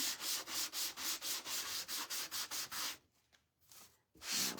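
Rapid back-and-forth sanding strokes scrub across a waxed wooden gnome shelf sitter, about a dozen close, even rasps, then a brief lull of lighter rubbing before one more stroke; no talking.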